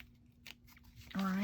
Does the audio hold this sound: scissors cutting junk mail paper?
yes